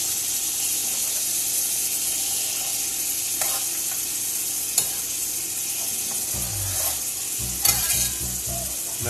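Garlic and onion frying in a pan give a continuous close sizzle with occasional stirring scrapes and clicks, with a few low knocking thumps near the end.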